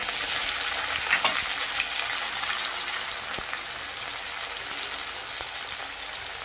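Green chilli and a bay leaf fry in a pan with onion and whole spices for a fish-head dal, making a steady, close sizzle punctuated by stirring scrapes and clicks.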